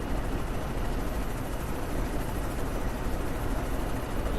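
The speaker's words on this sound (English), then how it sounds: "There's this stupid helicopter." A helicopter passes overhead in American Truck Simulator, a steady, loud rotor-and-engine drone with a faint pulsing texture that holds unbroken throughout.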